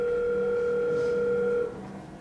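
A steady telephone tone sounds as a phone-call effect during a game-show style closing argument in an opioid trial, holding for about a second and a half before cutting to quieter room tone.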